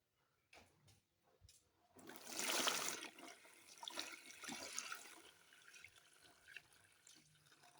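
Water splashes and pours out of a basin of finger millet in a rushing burst, then trickles and drips on for a few seconds; faint knocks come before it, no voices.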